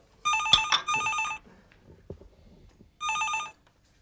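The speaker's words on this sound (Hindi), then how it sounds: "लगता है दादी जी मंदिर से फोन लगा रही हैं।" An old-style telephone bell rings in two close bursts, then a third after a pause with faint rustling between, loud and near in a quiet home.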